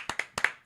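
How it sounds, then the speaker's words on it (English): Hands clapping in a casual podcast setting, a few quick, close claps in an uneven rhythm, sharp and fairly loud, with no talk. "I'm clapping that right there"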